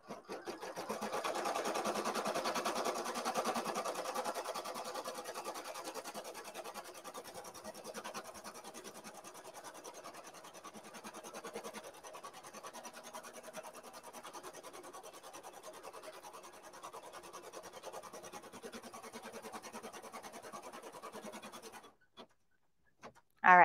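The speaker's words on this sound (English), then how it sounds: "now I'm going to start stitching. And now this is the tack down stitch." An embroidery machine runs a tack-down stitch for an in-the-hoop bunny bag tag, giving a steady, close, rapid needle chatter that continues without pause for about twenty-two seconds, then stops, leaving near silence with a brief clunk at the very end.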